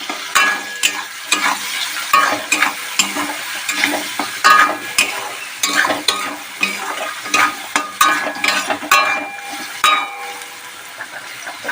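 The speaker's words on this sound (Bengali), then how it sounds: "ভালো করে ভেজে নিই" Potatoes fry in a pan with turmeric over a low flame, a continuous sizzle broken by repeated scraping stirs of a spatula, close and fairly loud, with no voices.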